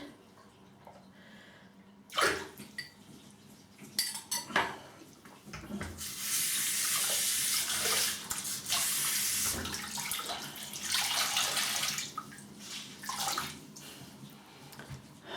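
Tap water runs into a sink during face rinsing after a shave, starting with a few splashes and clinks, then flowing steadily and loudly for several seconds with brief interruptions as hands move through it.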